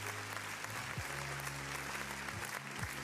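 A small group applauds a helper after a trading-card pack opening, steady close clapping lasting a few seconds with no voices over it.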